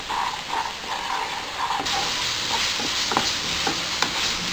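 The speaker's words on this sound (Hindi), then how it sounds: "लहसुन अदरक पेस्ट डाल लेंगे, इसको भी मिक्स करते हुए थोड़ी देर भून लेंगे" Garlic ginger paste fries with onions in a pan, sizzling loudly and close, with rhythmic scraping stir strokes and small clicks as it is mixed, and no talk.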